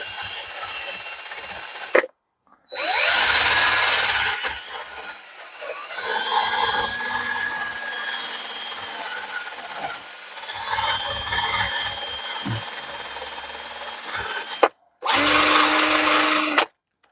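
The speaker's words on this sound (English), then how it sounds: "get your drill," A power drill spins a wire wheel to scrub rusty wheel studs on a 1996 Chevy Z71 pickup, grinding in long harsh bursts with short pauses between, loud and close.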